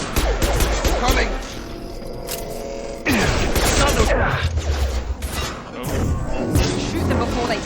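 Bursts of rapid gunfire and crashing impacts from a Mass Effect 2 firefight come in dense volleys with short lulls, and a player's voice talks over the action.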